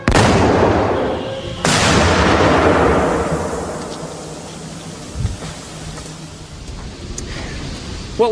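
A loud, close test explosion against an armored car bursts out and rolls on into a long rumbling decay, followed by a second sharp blast and scattered debris and rattles as it fades.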